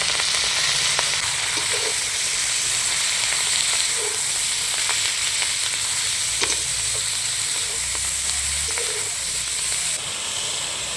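Bitter cane-shoot greens dropped into hot oil in a pan after frying egg sizzle steadily and loudly, a continuous close hiss with occasional stirring clinks, no talking.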